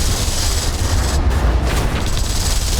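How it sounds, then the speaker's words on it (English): Spaceship blowing up in the space strategy game StarDrive, a loud continuous roaring blast with deep rumble that fills the whole moment without letup. "Oh, that guy's exploding."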